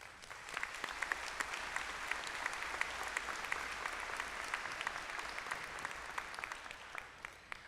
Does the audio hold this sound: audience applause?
yes